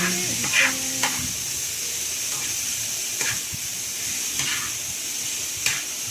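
Fish frying in a hot pan, a loud, continuous sizzle and hiss close up, with occasional bursts of spattering and a few stirring scrapes, no talking.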